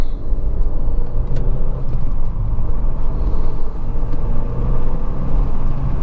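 A warm Renault Mégane 2 RS, a 225-horsepower car, runs with a loud, steady low engine rumble heard from nearby, continuous and even throughout without any talking.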